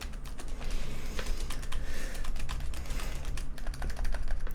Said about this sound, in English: Some people say that this keyboard even has membrane qualities because it's so soft and quiet.